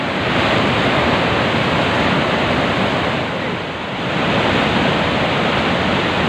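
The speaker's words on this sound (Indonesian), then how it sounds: "Ya teman-teman lihat, sungainya debit airnya sangat tinggi. Banjir datang" A flooded river runs at very high water, a loud, dense roar of rushing current filling the whole scene at close range with only slight swells in intensity.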